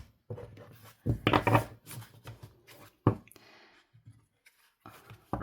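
Large oracle cards being shuffled in irregular bursts of soft riffling and slapping, close by, with brief pauses between handfuls.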